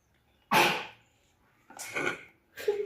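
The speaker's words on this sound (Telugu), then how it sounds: "దళిద్ర పోడు తుమ్మినాడు ఇప్పుడే మావాడు" A sharp, breathy sneeze bursts out nearby, followed by two more rough, noisy exhalations like further sneezes or coughs.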